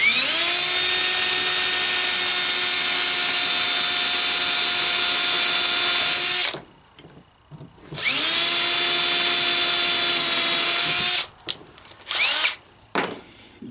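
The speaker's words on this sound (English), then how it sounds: "take a scrap piece of the same kind of wood, drill the same size hole through it" A power drill bores a hole through a scrap piece of wood in two long, loud, steady high-pitched runs separated by a pause, followed by short bursts and clatter near the end.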